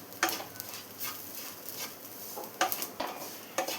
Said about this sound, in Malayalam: ഇപ്പോൾ തേങ്ങയെല്ലാം നന്നായി തന്നെ ഫ്രൈ ആയി വന്നിട്ടുണ്ട്